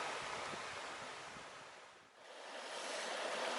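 Water in the Llanthony River in the Black Mountains rushes in a steady broadband wash that dips briefly and swells back, heard alone with some wind.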